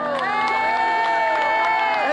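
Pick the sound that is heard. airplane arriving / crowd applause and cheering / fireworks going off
crowd applause and cheering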